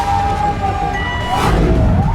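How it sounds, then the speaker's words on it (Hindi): Sirens wail at a chaotic scene where people flee in panic, a loud wavering tone that rises and falls over dense rumbling crowd and traffic noise, with no clear speech. "सायरन बज रहे हैं, लोग बदहवास भागे जा रहे हैं।"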